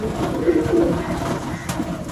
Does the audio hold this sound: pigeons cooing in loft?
yes